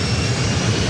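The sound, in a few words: SkyWest jet airliner taking off on runway 24 right at LAX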